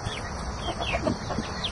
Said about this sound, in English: young Black Orpington.